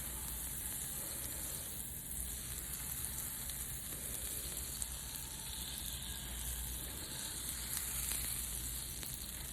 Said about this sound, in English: So now I'm going to take the rest of my butter and throw it in there and have it melted